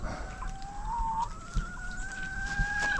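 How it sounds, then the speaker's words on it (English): Backyard chickens near a rustic fence make soft, drawn-out clucking and trilling calls close by, a steady rising tone over light outdoor background noise. "What you doing, chicken, chicken, chickens?"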